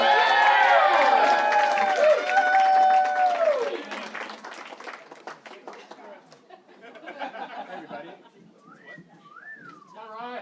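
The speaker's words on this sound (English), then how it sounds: "let's hit a giant round of applause for your one and only best man" Wedding guests cheer and whistle loudly with applause for the best man, a dense burst that fades after about four seconds into scattered crowd chatter and a few softer whistles.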